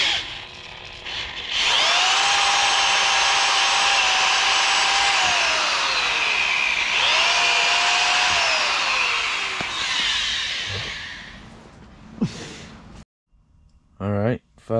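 A power drill running off a Bluetti EB55 portable power station whines loudly and steadily for several seconds, dipping in pitch twice as it bogs down, then stops; brief clunks follow.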